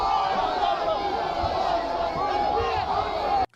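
A huge packed crowd at an IShowSpeed event in Algeria roars and chants continuously, a dense wall of voices that stays loud throughout before cutting off abruptly at the end.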